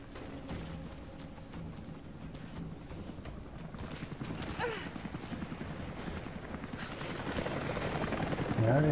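A helicopter in the video game Rise of the Tomb Raider on Xbox 360, a steady rotor drone building louder toward the end amid scattered crackling gunfire-like bursts of game action.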